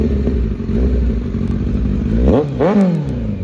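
A Kawasaki Z900 motorcycle engine idles with a steady, close rumble, then gets two quick, sharp throttle revs that rise and fall near the end.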